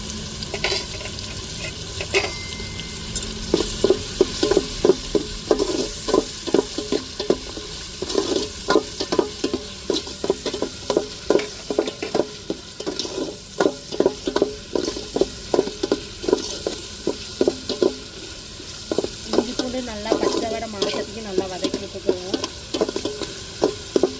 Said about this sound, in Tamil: இப்போ இஞ்சி பூண்டையும் வதக்கிடுவோம் நல்லா